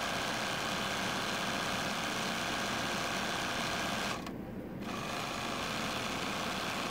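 An embroidery-style sewing machine satin-stitching a quilt block with stabilizer, running as a continuous close, buzzing whir with a brief dip partway through.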